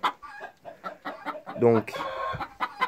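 Laying hens cluck in short repeated bursts close by, with one louder drawn-out call midway; a voice speaks briefly among them.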